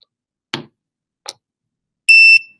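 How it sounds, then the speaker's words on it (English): Wireless phone charger giving a single loud, steady electronic beep near the end, a clear high tone that follows two brief soft clicks or taps as a phone is set down. "Beep, you hear the sound. That'll let you know that it's charging."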